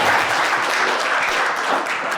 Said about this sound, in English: clap for Tattlesall's.